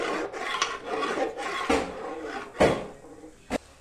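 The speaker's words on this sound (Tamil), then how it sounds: "இந்த கரண்டி வடச்சட்டியில் போட்டு நல்லா கலந்து நல்லா இருக்கு." A spoon scrapes and stirs food in a frying pan (vadachatti), giving rough repeated rasping strokes with a few sharper knocks against the metal, close and fairly loud.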